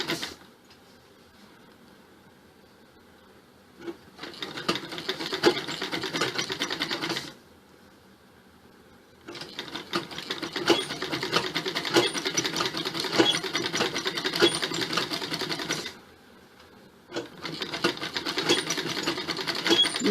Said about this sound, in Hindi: ये देखिए इस तरीके से ऊपर ऊपर एक सिलाई और देते चले जाओ।